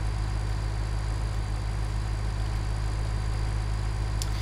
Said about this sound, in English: Come on, little tractor, you can do it.